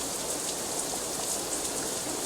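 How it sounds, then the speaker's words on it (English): Steady rain falls as an ambient effect in the visual novel Katawa Shoujo, a constant soft hiss of drops with no talking or other sounds over it. "A symptom of the sudden rain, I'm sure."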